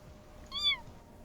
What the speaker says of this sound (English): And he just meowed at me.